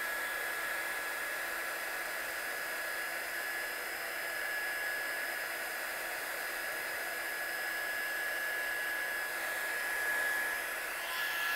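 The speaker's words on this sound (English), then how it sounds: "So I'm just heat setting this one." A heat tool blows steadily and loudly for the whole stretch, setting embossing powder on vellum for a handmade stamped card, a constant hair-dryer-like whoosh with no talk.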